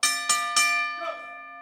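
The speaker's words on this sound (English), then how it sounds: "Ring the bell." A wrestling ring bell at a televised pro wrestling show strikes three times in quick, even succession, bright metallic clangs ringing out loud and near, the last tone decaying into a lingering hum.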